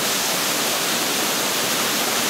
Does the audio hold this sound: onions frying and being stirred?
no